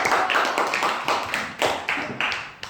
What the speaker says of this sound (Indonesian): Tepuk tangan buat adik-adik